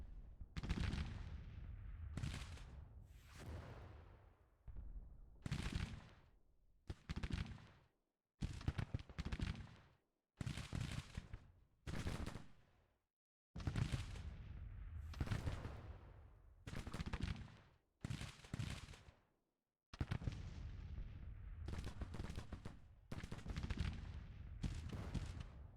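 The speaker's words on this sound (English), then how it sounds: "You should lay down and let the ordnance rifles do their" Ordnance rifle artillery volleys in the Civil War strategy game Grand Tactician, a long series of sharp booming cannon shots in irregular clusters, each decaying quickly into brief silence, loud and close.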